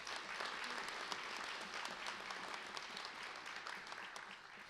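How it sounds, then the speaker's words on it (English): Applause rises from the audience at a sheriff's office promotion awards ceremony honoring retiring staff, a continuous, fairly faint patter of many hands heard from a distance, even throughout with no speech. "Let's give them a round of applause."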